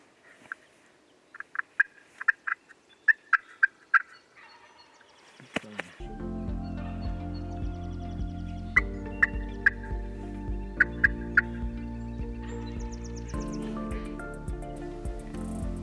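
Wild turkey in eastern Ontario spring woods gobbling in repeated loud rattling bursts, first alone, then over a steady low droning background.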